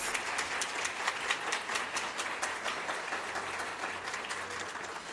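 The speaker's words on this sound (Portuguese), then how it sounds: "uma salva de palmas" An audience at a Pride Week event in a state audit court applauds a singer with steady, moderately loud clapping that continues evenly to the end, with no talk over it.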